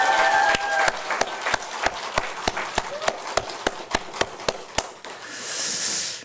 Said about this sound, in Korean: 제가 이제 가자 혁신으로 하면 여러분 박수 치면 되겠습니다